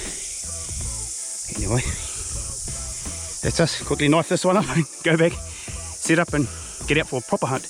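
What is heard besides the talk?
thousands of cicadas buzzing in background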